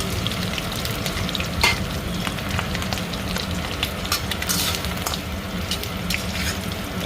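Prawns fry in hot oil in a pan, giving a steady close-up sizzle with scattered crackles and pops, with no voices over it.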